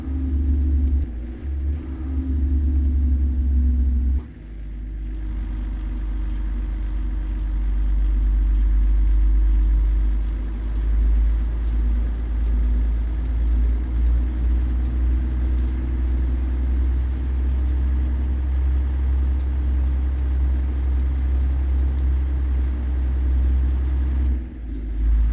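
A heavy-haul truck engine in American Truck Simulator, a loud, continuous low rumble with a slightly rattly, uneven texture and brief dips as it labours along, with no talking over it.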